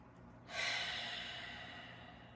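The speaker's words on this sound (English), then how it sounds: "2 more big breaths." A single deep breath taken in during a grounding practice, a close, breathy rush of air that swells suddenly and then slowly fades into quiet.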